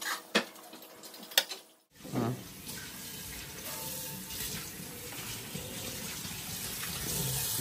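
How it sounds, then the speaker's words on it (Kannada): Dishes being washed in a sink under a steadily running tap, with a continuous water rush and occasional clinks of pots and cutlery, after a brief quieter clattery start. "ಎಷ್ಟು ಪಾತ್ರೆನು ತೊಳೆದು ಹಾಕಿದೀನಿ"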